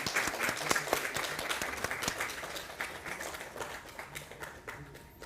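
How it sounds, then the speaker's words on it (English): A large audience at a wireless, antenna and microwave symposium breaks into sustained applause, dense clapping that slowly tapers off over several seconds. "Let's have a huge round of applause."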